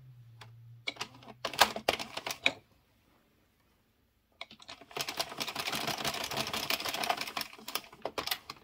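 An addi circular knitting machine knits with two yarns held together, giving bursts of close clattering clicks, then a pause, then a longer run of steady rattling mechanical clicks.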